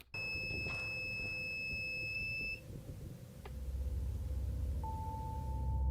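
A monitoring device in a hallway gives off a steady high-pitched electronic beep for about two and a half seconds. A lower, softer tone starts near the end over a quiet room hum.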